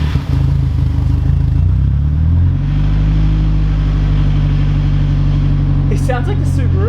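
A Nissan S14 with a newly fitted exhaust rumbles loudly nearby, swelling through a rev before dropping back to a deep, steady idle, with brief voices and clatter toward the end.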